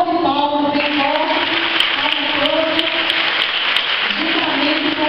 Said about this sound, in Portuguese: E uma salva de palmas, bem forte,